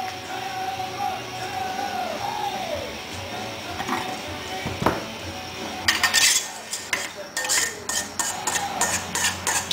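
Cooked red potatoes tumble from a colander into a pot for garlic mashed potatoes, with scattered clinks and clatters of metal and cookware growing into a busier run of knocks toward the end.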